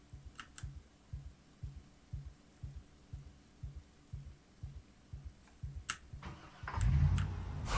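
In the Project Zomboid video game, a car engine cranks repeatedly in an even rhythmic chug without catching, a faint mechanical pulse, before a louder burst of noise at the end.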